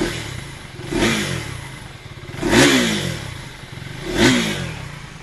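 A 2023 KTM Duke 390 with a shortened exhaust, recorded near the exhaust, blipping its throttle three times over a steady idle, each rev rising and falling, loud and close.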